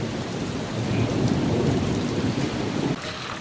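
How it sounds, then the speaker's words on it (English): Steady rain pours with a low rumble of thunder rolling underneath, loud and continuous throughout before easing slightly near the end. "This is the first time I've been here when it's raining."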